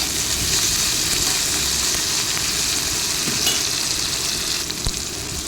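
Ginger-garlic paste fries in a pan for a cauliflower fry, giving a steady, loud, dense sizzle that holds evenly throughout with a few faint scraping stirs.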